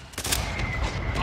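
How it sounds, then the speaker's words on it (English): A quick rumbling barrage of mortar-strike explosions and gunfire in Call of Duty, loud and continuous over a short burst of battle noise. "Mortar strike on the way"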